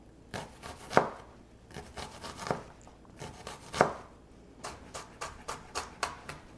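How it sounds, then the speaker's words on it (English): Knife dicing onions into small pieces on a cutting board, a run of sharp, close chops in irregular bursts that quicken into a steady rhythmic series near the end. "I'll do the onions. You want kind of smaller pieces of onions, smaller dices as well."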